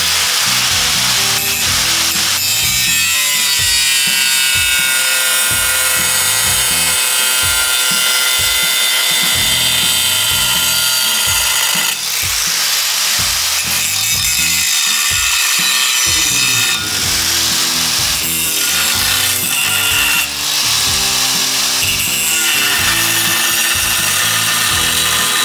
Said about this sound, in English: you just come through with your grinder and you just take out those little sections